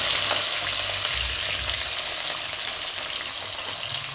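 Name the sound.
frying garlic paste, onion and chilli in oil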